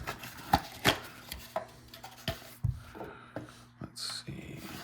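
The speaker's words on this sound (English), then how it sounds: "Let's get the knife back out and just go ahead and cut these things off of" A knife cuts G.I. Joe toy figures free of their plastic packaging: quiet, close, irregular snaps, cracks and scrapes of plastic, with a crinkly rustle toward the end.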